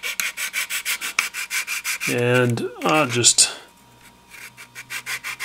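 Filler on a scale model being wet-sanded with a water-dampened sanding stick: a rapid, regular series of close rasping strokes, then a break where someone talks briefly, before the rhythmic rubbing resumes.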